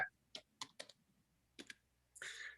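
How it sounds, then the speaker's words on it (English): Typing on a computer keyboard while chatting online: short bursts of crisp key clicks in irregular clusters, close and fairly quiet, followed by a longer run of rapid keystrokes at the end. "I'm just typing more in the chat at the moment"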